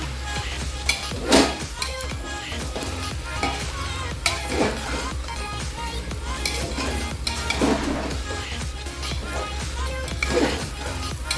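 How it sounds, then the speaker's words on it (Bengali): Rice, moong dal and spices stirred and frying together for khichuri, a steady sizzle with repeated scraping strokes of a spoon against the pot, close and continuous, with a low hum running underneath. "মুগ ডাল দিয়েও ভালো করে কষিয়ে নেব চাল ডাল সমস্ত মশলার সাথে"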